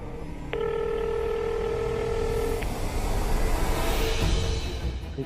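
A steady electronic phone ringback tone sounds for about two seconds, then stops, leaving continuous background noise with no answer.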